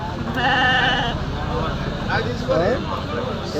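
Rams and goats at a Kadiri sheep and goat market, with several wavering bleats rising over a busy crowd murmur and people talking nearby.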